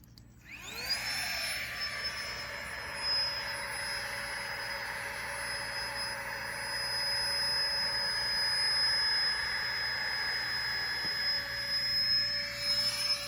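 Air pump inflating Naturehike Cloud Peak 2 camping gear, a steady loud whining motor drone that spins up at the start and holds an even, continuous hum throughout, with no talk over it.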